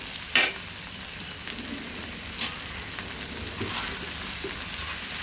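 Cooked potatoes stirred into a sizzling bhaji in a pan, giving a steady close frying hiss with a few soft scrapes and stirring knocks.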